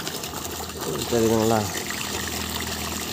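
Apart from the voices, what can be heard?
1100GPH DC water pump running on solar panel, water gushing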